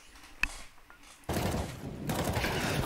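Counter-Strike 2 match gunfire: a single sharp shot, then a loud sustained burst of rapid automatic fire with heavy overlapping reports that continues to the end, no voices over it.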